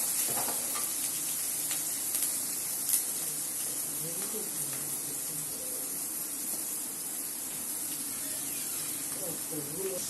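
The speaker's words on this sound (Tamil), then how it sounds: "வெங்காயம் நல்லா பொன்னிறமாக வந்து வதங்கணும்" Onions with salt sizzle steadily in hot oil as they fry toward golden brown for a Tamil sankara fish curry, a continuous close hiss with occasional stirring scrapes and no talk.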